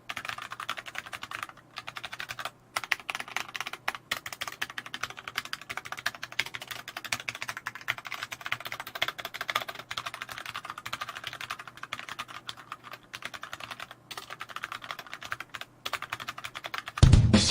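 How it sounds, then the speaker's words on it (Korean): Fast continuous typing on a Xiaomi MK01 tenkeyless mechanical keyboard with red linear switches, a dense close-up clatter of keystrokes with only brief pauses, ending in a louder knock. "마지막으로 샤오미 MK01 텐키리스 기계식 키보드입니다."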